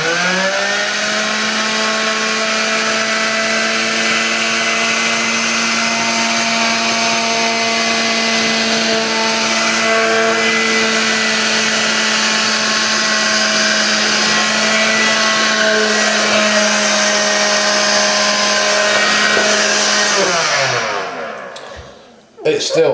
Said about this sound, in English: Thank goodness we have a Hoover DublDuty to try and pick this up.